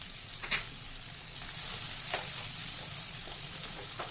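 Masala frying in oil in a kadai for a mutton dish, a steady close sizzle rising after a brief clatter and continuing evenly without talk.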